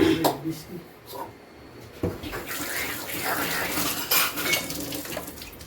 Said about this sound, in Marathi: बघा तिकडे आपटते जर भांडी